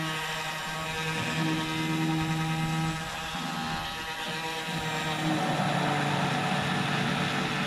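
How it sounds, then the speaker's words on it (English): A blender whirs through homemade soup with a loud, steady motor drone that holds for the whole stretch, without any talking. "Now we're going to blend it, see what happens."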